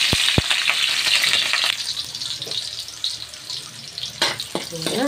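Pork and other ingredients fry in a pan with a bright sizzle, stirred with scraping and clinking strokes, close up, the sizzle fading somewhat as stirring continues.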